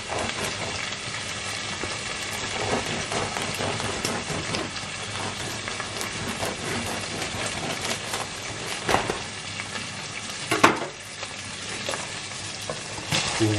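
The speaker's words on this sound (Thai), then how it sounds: "ผัดขนมปังกระเทียมด้วย" Garlic bread with butter and parsley sizzles and is stirred in a hot pan, a continuous crackling fry with occasional scraping clicks and spatula knocks, close and steady, no talk.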